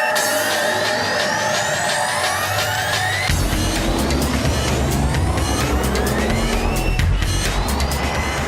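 A 2007 Range Rover Sport four-wheel drive accelerates hard on a road, its engine note climbing repeatedly through the gears, loud and close.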